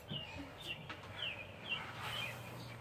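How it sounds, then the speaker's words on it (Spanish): Several small birds chirp and tweet in repeated short bursts over steady outdoor background noise. "Se siente una paz escuchar a los pajaritos."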